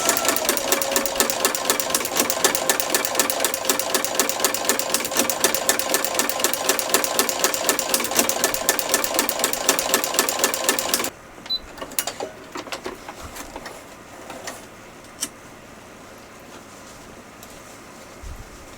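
A sewing machine stitches ruffles with a ruffler foot set to the 6 and 12 stitch positions. It runs in a fast, steady mechanical rhythm for about eleven seconds, then stops and leaves scattered soft clicks and handling noises.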